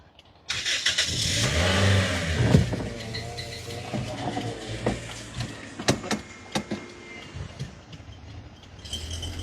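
A 2004 Toyota Allion is driven, its engine catching and revving up near the start, then running at a moderate hum with scattered clicks and knocks, no talk.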